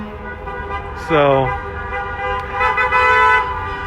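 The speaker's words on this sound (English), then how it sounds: "they were also told to honk horns and make a lot of noise" Car horns honk in backed-up traffic during the Operation Gridlock protest in Lansing. A short, wavering honk is followed by a longer, louder blast, while someone talks nearby.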